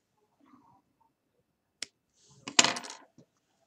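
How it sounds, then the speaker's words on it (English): Scissors snip through knitting yarn in a quiet room: a single sharp click followed by a brief rustling snip, close and soft. "Pull and snip."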